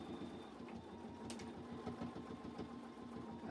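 A sewing machine runs steadily while stitching a fabric face mask, its fast mechanical chatter close and continuous through a final backstitch, quiet and unaccompanied by speech.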